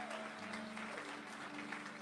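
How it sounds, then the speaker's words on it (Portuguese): A church congregation applauds the women who cooked for the church, a steady wash of many hands clapping at a fairly quiet level, with faint low hum or voices underneath throughout. "Uma salva de palmas para essas mulheres"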